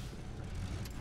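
A truck engine idles steadily in the Mudrunner off-road driving game, a low continuous rumble that stays close and fairly loud throughout, with no voices over it.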